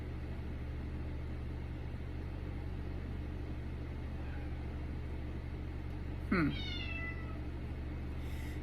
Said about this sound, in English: I think I'm really distracted by the cats tussling